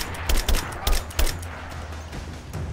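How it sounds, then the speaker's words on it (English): Enemy gunfire in the action game Rise of the Tomb Raider, a handful of sharp shots in quick succession over a rumbling background, fading to quieter ambience afterward. "I'm taking fire."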